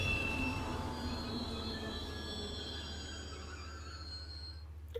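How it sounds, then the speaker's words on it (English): A train in Final Fantasy XV slows on icy tracks, wheels squealing in thin, high, sustained tones over a low steady rumble that gradually fades, with no talk. "Enough to actually slow down the train."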